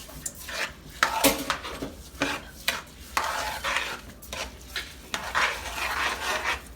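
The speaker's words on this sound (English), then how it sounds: "So you want to mix it where all the grains take the color from the sazon and everything that we put in here" Rice with sazon stirred in a pot, a spoon scraping and clinking against the metal in irregular close strokes over a faint sizzle, with no talking.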